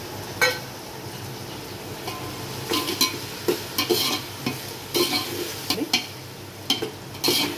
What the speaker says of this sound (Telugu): టమాటా ప్యూరీ వేస్తున్నాను.